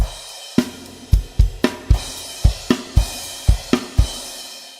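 A drum kit plays the closing line of the chorus of a song, about a dozen sharp accented hits in an uneven pattern, close and loud, with cymbal wash ringing over the strokes.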